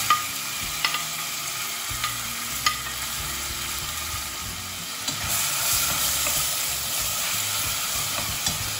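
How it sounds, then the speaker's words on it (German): Lamb pieces sear in hot olive oil with a steady, bright sizzle, punctuated by a few sharp clicks of stirring, and the frying grows slightly louder toward the end. "Das Fleisch wird im heißen Öl angebraten."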